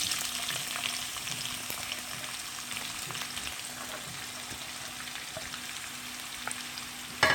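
Onions drop into piping-hot oil with cumin seeds, cardamom, black pepper and cloves, producing a strong, continuous frying sizzle that holds steady to the end.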